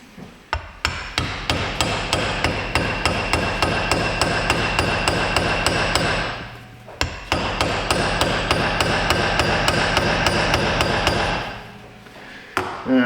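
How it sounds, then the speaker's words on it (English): Hammer tapping a socket down onto a wheel bearing during a Hyundai Accent bearing replacement, a loud, rapid, steady run of sharp metallic blows in two long bursts with a short pause between, close up and without talk. "let me get a socket to stick on that, and we'll very gingerly tap that down"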